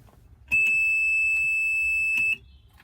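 A train cab buzzer unit sounds during a system test: one steady, piercing electronic tone holds for nearly two seconds, then cuts off, over faint background noise with a few soft clicks.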